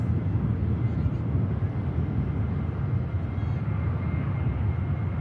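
A Jet2 airliner heading for Toulouse takes off from Manchester Airport with a steady, deep engine roar and rumble that holds at an even level throughout and sounds fairly distant.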